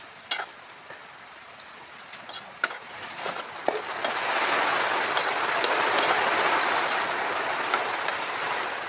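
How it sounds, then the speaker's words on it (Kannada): Heavy rain pours steadily outdoors, a dense continuous hiss that swells after a few seconds and holds loud, with a few sharp knocks and clinks near the start. "ಮಳೆ ಜೋರಾಗಿ ಬರ್ತಾ ಇದೆ"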